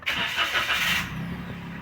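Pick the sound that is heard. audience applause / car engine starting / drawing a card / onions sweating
car engine starting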